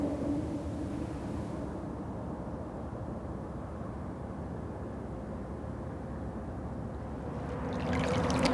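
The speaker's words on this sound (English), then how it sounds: "The sound of the water is so soothing." Soft, steady flowing river water with a low, even wash that swells slightly toward the end, calm and uninterrupted.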